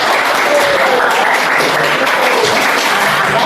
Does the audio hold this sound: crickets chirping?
no